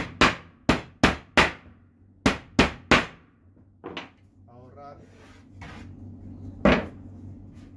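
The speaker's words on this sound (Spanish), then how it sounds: "ustedes irán viendo el proceso de clavar dos veces y el tiempo que me lleva" Einhell pneumatic nailer-stapler driving fasteners into wood, giving sharp close bangs in quick pairs and bursts, followed by quieter handling noises and a faint voice.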